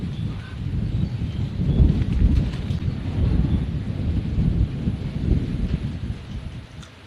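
Wind roars in gusts against a steady rush of rain, a low, heavy rumble throughout with no talking.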